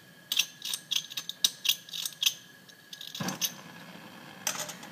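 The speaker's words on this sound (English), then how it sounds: "you can put the striker next to the Bunsen burner and pull on it" A metal striker is squeezed repeatedly beside a Bunsen burner in a chemistry lab, a string of sharp, quiet scraping clicks close by, followed by a brief rougher rasp and a few more clicks.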